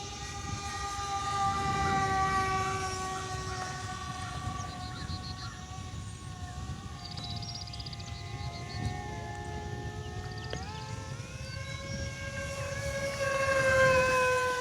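E-Flite Ultrix 600mm RC plane flying a full-throttle pass outdoors, a high, steady electric motor whine rising and falling in pitch with a Doppler shift as it passes, fairly distant and without talk.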